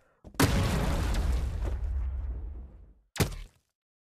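A missile-like weapon in the VR sandbox game Boneworks fires with a loud whooshing burst that trails off over about three seconds, followed by a short, sharp explosion, with no talking.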